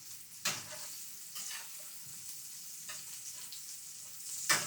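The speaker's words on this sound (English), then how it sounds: "So we're going to fry the carrots" Carrots frying in oil for an escovitch dressing, a soft, fairly quiet hiss of frying with a few faint stirring scrapes and a sharper clatter near the end, no one speaking.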